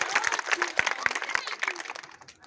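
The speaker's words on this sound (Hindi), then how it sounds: "बुल्का पंचायत के जनता एक बार जोरदार ताली बजा करके मोदी जी का और अपने सांसद जी का स्वागत और अभिनंदन करें" Villagers at an outdoor political gathering in Bulka panchayat clap loudly, sharp individual claps in a lively uneven burst that thins and fades toward the end, with some voices mixed in.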